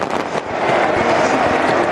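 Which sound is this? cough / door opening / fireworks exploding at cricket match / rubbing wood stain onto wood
fireworks exploding at cricket match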